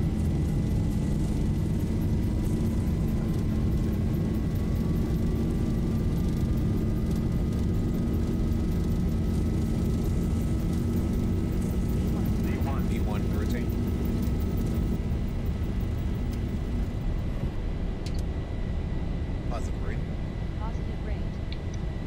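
Simulated Boeing 737 airliner jets spooling to takeoff thrust in the X-Plane Zibo mod: a steady loud roar with a rising whine holding throughout, and cockpit voices and radio calls over it.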